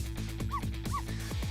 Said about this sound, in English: Immediately barks.